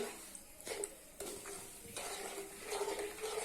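Semolina roasting in a pan for pumpkin halwa is stirred with a spoon, producing quiet, steady scraping and a faint dry sizzle with occasional light clinks against the pan, close and without talking.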